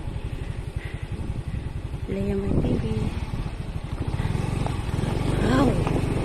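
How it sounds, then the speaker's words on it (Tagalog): A motorcycle engine passes near Imelda's Garden, its low throbbing idle rising and falling under people talking nearby. "ayan ang motor"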